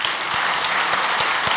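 Dense, loud audience applause from a studio crowd at a Turkish comedy sketch show, a steady wash of many hands clapping with no pause.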